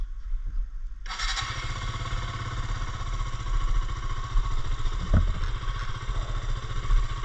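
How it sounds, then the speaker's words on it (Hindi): A motorcycle with leaking engine oil and a suspected clutch problem cold-starts: a brief starter whirr, then the engine catches and settles into a loud, steady idle with some clatter, heard close up. "तो करते हैं गाइज बाइक कोल्ड स्टार्ट वाले।"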